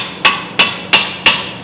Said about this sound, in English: let's give it a few taps.